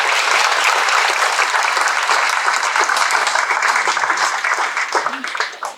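Wedding guests at a marriage ceremony break into dense, sustained applause for the couple, a full crowd clapping steadily before it thins and fades out at the end.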